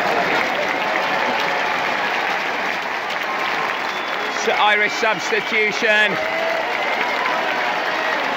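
A stadium crowd at a New Zealand versus Ireland rugby match keeps up a broad roar of applause, with a commentator's voice briefly speaking over it midway.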